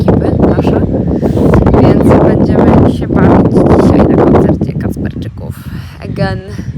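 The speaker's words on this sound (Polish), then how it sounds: "strasznie wieje i jak mówię do Was, to bardziej słychać wiatr" Heavy wind buffeting the microphone in low rumbling gusts while a person talks close by throughout.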